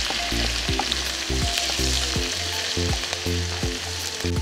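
Garlic, green chili and ginger fry in oil for a fish masala, giving a strong, continuous sizzle throughout alongside a repeating pattern of short tonal notes.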